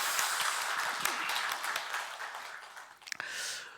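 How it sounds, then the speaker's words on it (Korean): A church congregation applauds during a Christmas Eve Sunday morning worship service, a dense, steady roomful of clapping that gradually thins and fades out over several seconds. "우리 하나님께 영광의 박수 올려드리겠습니다."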